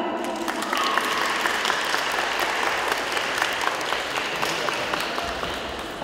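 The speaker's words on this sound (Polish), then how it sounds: "Dziękujemy, duże brawa!" Sustained audience applause at a school carol and pastoral song contest, dense and steady clapping filling the room for several seconds after a young singer's performance.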